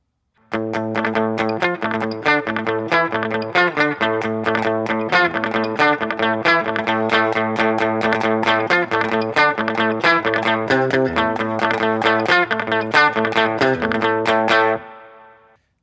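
Distorted electric guitar plays an octave riff, steady repeated picked octaves moving through several positions with effects, loud and close for about fourteen seconds before ringing out.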